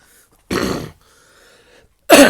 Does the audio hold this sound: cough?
yes